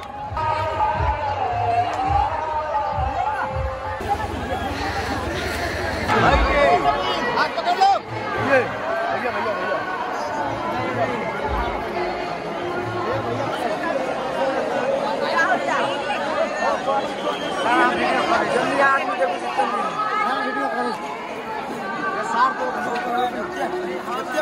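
A crowd at a Vivah Panchami festival gathering chatters in a dense, constant babble of overlapping voices, with closer voices rising now and then above the general hubbub.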